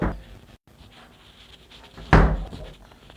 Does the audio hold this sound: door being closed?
yes